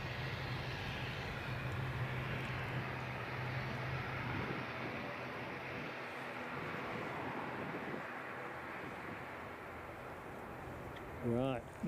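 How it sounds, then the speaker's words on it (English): An easyJet airliner inbound from Paris Charles de Gaulle at Edinburgh airport makes a steady, broad engine roar that holds at moderate distance throughout, with a brief louder burst near the end and a voice talking at times. "Inbound easyJet from Paris, Charles de Gaulle, I'm assuming."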